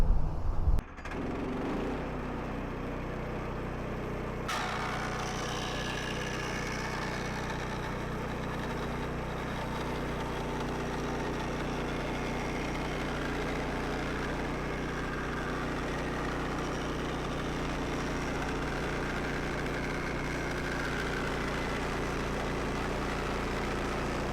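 A sawmill's engine runs steadily as a scrap log is split down the middle, a constant low mechanical drone with a brighter cutting layer joining a few seconds in and holding to the end, with no talking.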